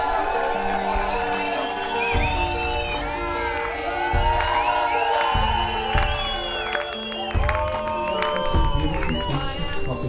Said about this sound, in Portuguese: primeiro beijo de casal, salva de palmas